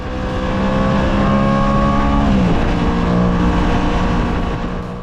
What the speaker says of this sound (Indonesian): Meski hanya mengusung mesin 2 silinder, namun raungan suaranya mirip-mirip motor bermesin V4,